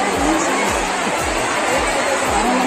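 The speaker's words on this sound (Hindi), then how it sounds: "तो संगवारी हो देख सकते हो कितना भीड़ है" A large crowd fills the Shiv Mahapuran event pandal in Gandai, producing a dense, steady wash of chatter and babble with no single voice standing out.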